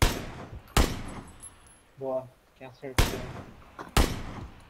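Four loud, sharp gunshots ring out in PUBG, spaced unevenly across a few seconds. Brief spoken voices come between the shots.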